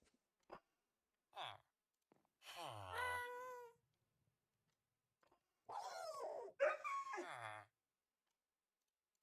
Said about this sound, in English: the dogs are back to making terrible noises